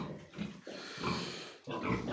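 Small farm pigs grunting and snorting close by in short, uneven bursts, with a brief lull before the grunting resumes, and no talking.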